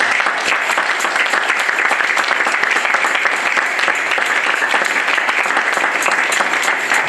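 A church congregation bursts into sustained, dense applause at the close of a sermon, steady and loud throughout with no talk over it.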